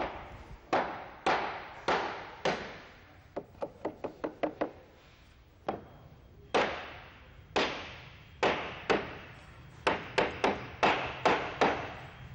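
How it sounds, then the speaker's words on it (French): A hammer knocks repeatedly on wooden wedges while setting window-sill formwork, sharp solid blows in uneven groups, including a quick run of lighter taps, with pauses between strikes. "Il positionne à hauteur précise le coffrage en agissant sur les coins avec le marteau."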